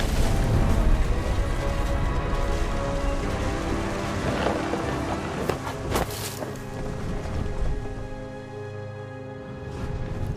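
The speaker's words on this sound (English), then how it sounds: "The thunder sounded much too close and full of angry power." Stormy rain and rumbling thunder from the game What Remains of Edith Finch fill the scene steadily, a dense wash of rain with a few sharp cracks and booms rising partway through, loud and close, with no voices.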